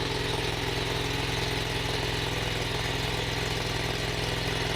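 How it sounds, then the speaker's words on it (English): A small engine idles steadily with its choke left partly on, a continuous even mechanical drone near a heavy haul trailer, with no talk. "I left the choke on a little bit on that engine."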